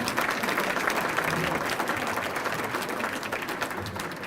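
Sustained audience applause fills the hall at a high school athletic hall of fame induction ceremony, a dense, even wash of many hands clapping at steady loudness for about four seconds with no talking over it.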